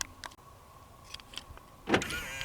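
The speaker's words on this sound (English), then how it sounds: "You lock it, the mirrors fold in." Power-folding side mirrors on a Toyota Land Cruiser retract as the truck locks, giving a brief electric motor whir after a few small clicks, close and moderately loud against quiet surroundings.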